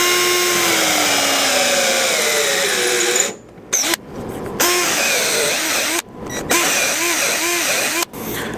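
A domino-style joinery tool bores holes into wood with a loud, continuous high-pitched motor whine that cuts out briefly several times between plunges, close up and with no talk over it.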